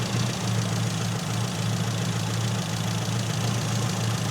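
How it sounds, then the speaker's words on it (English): Car engine idling steadily during SU carburettor tuning on a low-power ignition system, a close, continuous low rumble with faint knocking pulses and no talk. "Expect the idle to pick up a wee bit as well"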